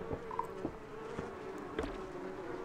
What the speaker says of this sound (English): We've rescued him from being hunted by bees!